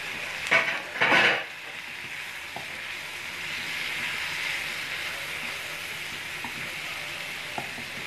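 Tomatoes and peppers sizzle steadily in a hot pan, a constant bright hiss with two quick scraping stirs near the start and a few faint clicks of a utensil later on.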